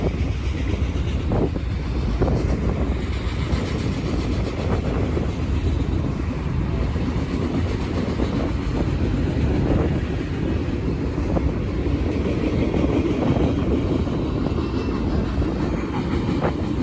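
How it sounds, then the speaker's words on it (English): A Norfolk Southern freight train, NS 258, rolls past at Berea, Ohio, with a GEVO locomotive leading and an ACC trailing. A loud, steady rumble of wheels and cars continues throughout, with wind buffeting the microphone. "the next train was a Norfolk Southern train, specifically NS 258, with some freight on the head end"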